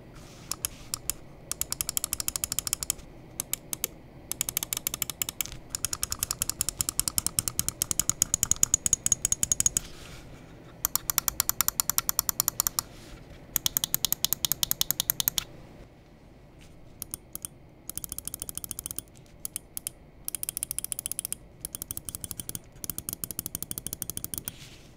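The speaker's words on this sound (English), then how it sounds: "let's go ahead and jump into the click sound test, and I'll go and compare it up against my original copy" Rapid clicking of a Pwnage x BLG StormBreaker gaming mouse's buttons, crisp close-up clicks fired in fast bursts and runs, separated by brief pauses over a quiet background.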